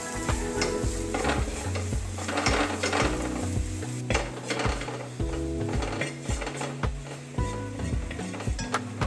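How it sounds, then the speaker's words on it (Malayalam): Garam masala is stirred into an egg and green peas masala in a pan, a spoon scraping and knocking against the metal over a low steady sizzle. "ലേശം ഗരം മസാല, നമ്മൾ മിക്സ് ചെയ്യാം."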